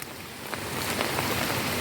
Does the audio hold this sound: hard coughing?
no